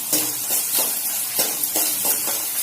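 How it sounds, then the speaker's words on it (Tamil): Chopped small onions sautéing lightly in a pan for Tamil-style kollu rasam, a steady close sizzle punctuated by regular stirring scrapes of a spoon. "வெங்காயம் போட்டு வதக்குறேன்"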